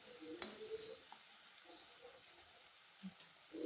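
Capsicum, tomato and green chili fry in a pan with a soft, steady sizzle and occasional faint stirring clicks, close but quiet.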